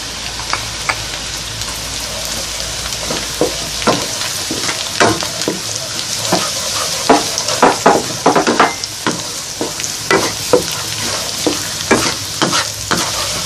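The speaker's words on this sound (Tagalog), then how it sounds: "Ilalagay na ngayon natin yung bawang, yung garlic." Garlic sautés with onions in a pan for a carbonara sauce, a steady sizzle broken by repeated sharp scraping stir strokes that grow busier midway, with no voices.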